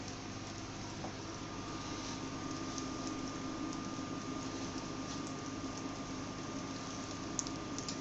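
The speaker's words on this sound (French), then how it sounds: "Un peu de beurre dans la poêle. Voilà. On va bien laisser chauffer le beurre." Butter heating in a frying pan gives a soft, steady sizzle and a faint bubbling hiss that holds evenly throughout, with a low hum behind it.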